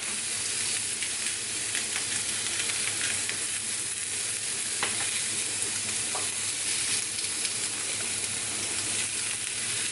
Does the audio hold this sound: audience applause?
no